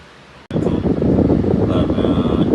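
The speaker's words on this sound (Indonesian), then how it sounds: "Jadi kita coba pakai kipas angin dulu." An electric fan switches on after a brief pause and blows a steady, close rushing stream of air over a freshly washed Fjallraven Helags cap to dry it.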